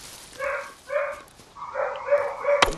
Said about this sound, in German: Entschuldigung, dass die Hunde jetzt wieder...